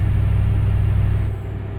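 A Kamaz truck engine in Euro Truck Simulator 2, driven on a northern Russian road, hums as a steady low throbbing drone with a regular pulse, fairly loud and close, easing slightly near the end.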